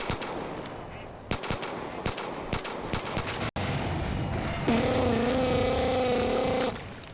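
Gunfire in the video game Far Cry 5 rattles off in rapid repeated bursts, loud and dense, before giving way to a steady droning buzz with a tonal whine.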